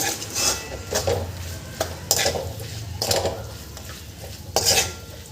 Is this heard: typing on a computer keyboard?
no